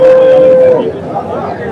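A cow at a cattle market gives one loud, close, drawn-out moo, then a low murmur of background noise lingers.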